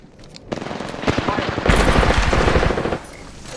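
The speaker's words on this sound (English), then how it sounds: "The enemies are shooting at me!" Rapid automatic gunfire in the Apex Legends video game rattles out in a dense, loud burst lasting about two seconds. It is preceded by a few single shots and then cuts off abruptly.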